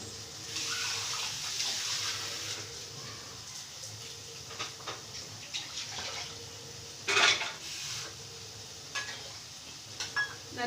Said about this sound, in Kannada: ಈಗ ಈ ಮಸಾಲೆ ಎಲ್ಲ ಫ್ರೈ ಆಗಿದೆ ಇದಕ್ಕೆ ನಾನು ನೀರು ಹಾಕ್ಕೊಳ್ತೀನಿ